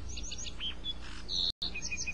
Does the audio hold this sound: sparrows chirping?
yes